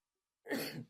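A single short, dry sneeze from a person bursts out suddenly after near silence, close and fairly loud, fading quickly.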